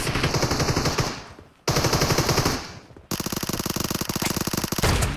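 Rapid automatic gunfire from a team deathmatch shooter video game, coming in three loud, sustained bursts separated by brief pauses, with the last burst the longest and densest.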